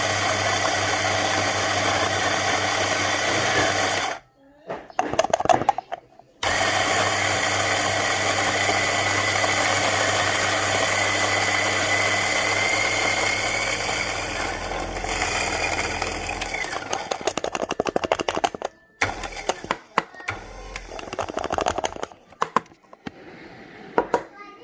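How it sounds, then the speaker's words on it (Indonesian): A burr coffee grinder grinds beans fine for espresso, a loud steady whirring drone with two short breaks, then fading into rattles and intermittent bursts near the end. "Kita akan giling. Ini gilingan untuk espresso."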